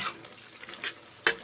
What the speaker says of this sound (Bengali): আমি নেড়েচেড়ে দেখুন কষে নিচ্ছি